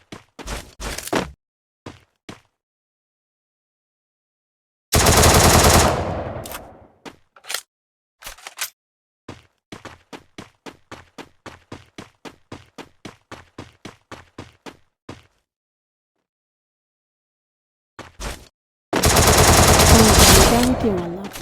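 Gunfire from a shooting video game comes in loud, dense bursts of automatic fire, broken by a rapid run of single evenly spaced shots and brief gaps of silence.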